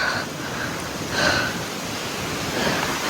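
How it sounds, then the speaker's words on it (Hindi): Gusty wind blows across an open mountainside near a jyotirlinga temple, a steady broadband rush that swells briefly in stronger gusts, loud and close with no voices. "हवा चल गई।"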